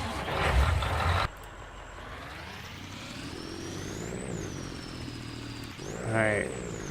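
In the Auctions And Trailers video game, a truck idles and revs with a steady engine rumble and whining pitch sweeps, after a louder burst of noise at the start.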